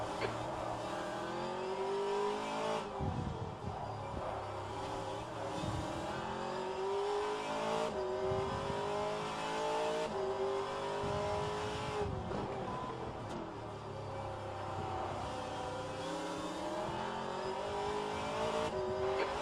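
Race car engines roar steadily through a sim race in rFactor2 at Long Beach, with rising and falling revs as the driver shifts and a faster-class car draws alongside, loud and continuous with brief tire squeal.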